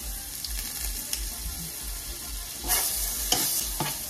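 Butter sizzles in a hot pan with a steady broad hiss, and a few louder crackles and scrapes come near the end.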